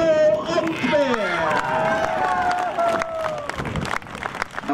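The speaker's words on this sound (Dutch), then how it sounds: "Geef ze een daverend applaus" Audience applause for the winning team at the end of a youth football tournament, the Martin Jol Cup, clapping under a loud announcer's voice and crowd noise throughout.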